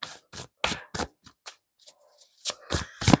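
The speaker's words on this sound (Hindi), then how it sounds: "यहाँ पे मैं थोड़े से कार्ड्स अभी और लूंगी।" Tarot cards being shuffled and drawn by hand, a series of short crisp riffles and slaps close to the mic with brief pauses between bursts and a faint voice in the gap.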